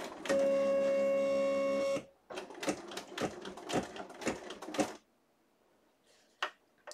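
Embroidery machine stitching fabric for an appliqué bird: a loud steady mechanical whir, then a series of rapid clacking stitch bursts, then quiet with a couple of isolated clicks.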